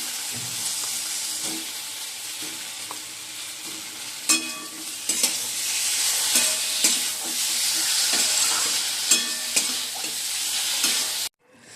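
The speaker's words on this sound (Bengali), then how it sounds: "এবার আলুগুলো দিয়ে দিচ্ছি" Fried potatoes are stirred in a spiced pan, with a spatula scraping and knocking in an irregular rhythm over a constant close sizzle that cuts off sharply at the end.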